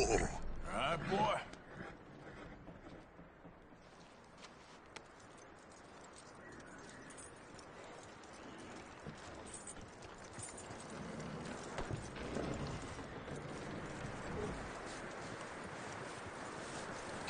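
Hooves clip-clop from a horse in a cowboy video game, a steady walking rhythm running through the scene at moderate level, with a person talking over much of it.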